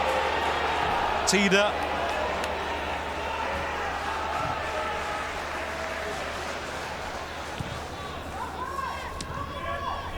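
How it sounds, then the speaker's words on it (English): Stadium crowd at a football match with Union, a dense, steady roar of fans that swells briefly with a sharp whistle-like burst early on, heard under continuous commentary. "Crowd get excited."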